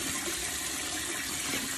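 Steady rush of tap water running into a sink during face washing at night in Brno, close and continuous, with no talking.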